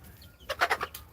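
Healthy chickens on a poultry farm let out a quick burst of four or five close clucks, brief and moderately loud over quiet background.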